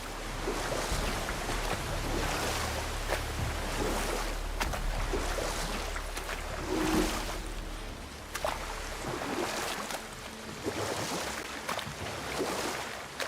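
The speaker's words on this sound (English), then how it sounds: "I've never seen a waterfall so big." A huge waterfall in the God of War video game gives a continuous rushing roar that swells and ebbs in broad waves, loud and enveloping, with no voices.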